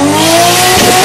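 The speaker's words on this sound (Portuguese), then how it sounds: "meu carro faz o flutter ainda. Esse aqui, ó." Turbocharged car engine revving hard, a loud, close, steady harmonic drone with rising pitch and a rough fluttering texture near the end.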